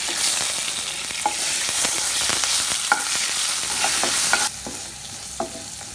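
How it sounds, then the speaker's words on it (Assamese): Panch phoron five-spice seeds fry and sizzle in hot oil, a steady close hiss with scattered pops and crackles, and a stirring scrape about four seconds in, with no voices. "এতিয়া আমি এইখিনি ভালকৈ ভাজি ল'লোঁ।"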